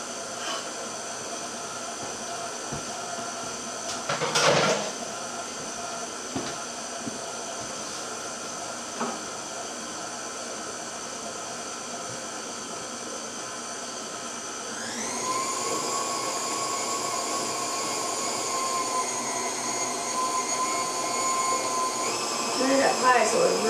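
Electric mixer blending pumpkin puree with butter and sugar, a steady whirring drone that jumps to a higher, louder speed partway through, with brief clatter early on.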